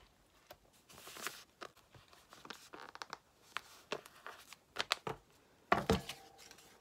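Scissors cutting out a fabric pattern folded on the fold for a gnome wine bottle topper, with irregular snips, rustles and paper handling sounds close by and no talk.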